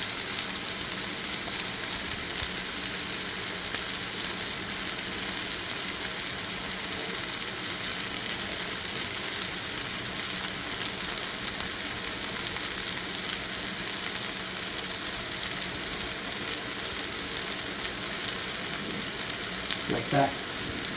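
Mushrooms fry in a pan with leftover steak juices, butter and seasoning, giving a steady, close broadband sizzle that holds even throughout, with a brief clink of a utensil near the end.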